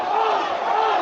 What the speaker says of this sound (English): The Aldershot Town crowd call for a second yellow.